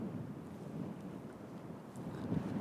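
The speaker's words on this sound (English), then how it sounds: "kind of curious to see if this microphone with the wind buff on can handle these kind of" Steady wind buffeting a microphone fitted with a furry wind buff outdoors, a continuous low rumble that swells slightly toward the end, with no speech.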